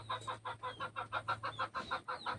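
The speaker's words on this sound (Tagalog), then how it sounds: "Ito yung bagong huli ko na ano, na labuyo." A young native red junglefowl (labuyo) clucks in a quick steady run of short rhythmic notes, close and fairly quiet, over a low background hum.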